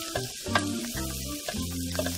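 A tablespoon of flour sizzles in a pan with onions, mushrooms and garlic for beef stroganoff, a close crackling fry broken by scraping stirs and clanks of the utensil, with no talking.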